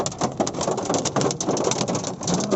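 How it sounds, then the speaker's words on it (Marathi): Hailstones pelt down during a hailstorm in a dense, loud clatter of impacts on surfaces, steady and close throughout without talk. "अरे गारा पडायला लागली शपथ"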